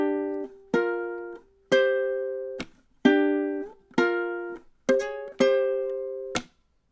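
A ukulele plays a riff for measures 5 and 6, sounding seven bright plucked chords in a syncopated pattern, each one ringing and then sharply cut off.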